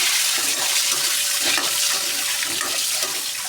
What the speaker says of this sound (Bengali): হালকা ভেজে নেবো ডিমটাকে